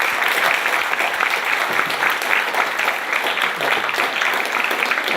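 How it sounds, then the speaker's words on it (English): A crowd claps after a talk by investor Mohnish Pabrai, sustained, dense applause from many hands, steady and fairly loud for the whole stretch. "Round of applause."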